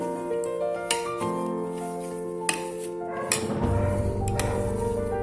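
A kitchen knife clinks and taps against a steel bowl while mashing chhena for sugar-free rasgulla, with scattered sharp metallic ticks and scraping over a low steady hum.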